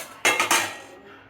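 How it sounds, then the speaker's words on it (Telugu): A metal lid clanks onto a pot of dhokla batter, two or three quick close clinks and rattles in a row, then a faint fading ring. "ఇప్పుడు మూత పెట్టి పెట్టుకుందాం మనం."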